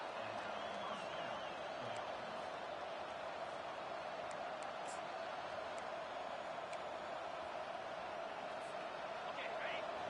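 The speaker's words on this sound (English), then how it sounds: "And the crowd coming to life here" A stadium crowd cheers in an NCAA Football video game, forming a constant, even roar that fills the whole stretch without breaks.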